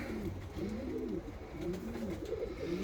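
A fancy pigeon with large feathered feet, held in the hand, coos close by in low, rolling phrases that rise and fall repeatedly with no talking.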